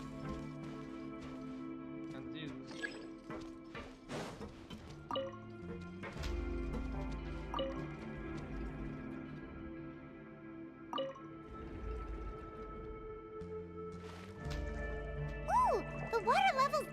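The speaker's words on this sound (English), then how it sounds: "The water level's gone way up!" Water rising in a chamber in Genshin Impact, with low sloshing surges and scattered drips under a steady musical background, moderately quiet and continuous.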